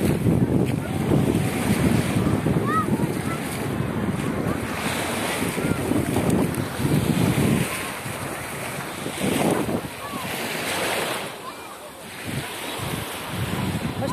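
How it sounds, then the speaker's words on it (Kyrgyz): Waves on Lake Issyk-Kul near Cholpon-Ata wash steadily against the shore in a continuous surging roar, with heavy wind buffeting the microphone throughout and no voices. "Толкун."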